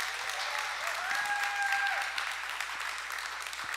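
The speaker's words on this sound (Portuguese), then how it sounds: "vamos receber com uma linda salva de palmas nosso pastor Edson" A church youth workshop audience gives sustained applause to welcome a pastor, a steady, fairly distant wash of clapping with a brief tonal sound partway through.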